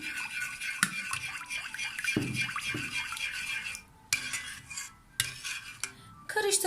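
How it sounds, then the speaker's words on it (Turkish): A spoon stirs melted butter and vegetable oil in a pan, with close metallic clinks and scraping strokes that come in uneven bursts and then pause briefly. "Erimiş olan tereyağının içerisine yarım çay bardağı kadar sıvı yağ ilave ediyorum ve karıştırıyorum"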